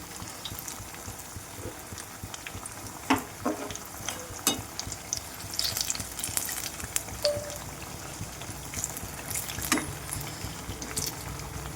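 Potato bajji fry in oil with a low bubbling sizzle while being turned, marked by intermittent sharp scrapes and clinks of a spoon against the pan.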